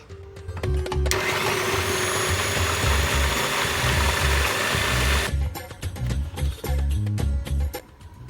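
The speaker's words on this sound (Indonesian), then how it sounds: "Oke, kita blender ya." An electric blender mixes sticky date pudding batter, starting with a brief rattle, then running at a loud, steady high whir for about four seconds before cutting to uneven clattering bursts.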